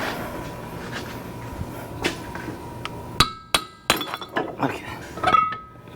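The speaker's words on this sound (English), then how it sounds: "I just use this brass hammer so I wouldn't mess up the end of the axle" A brass hammer knocks a stuck front axle loose on a Ford Escape during a wheel bearing replacement: a series of sharp, loud metallic strikes in irregular rhythm, close up, after a brief spoken word.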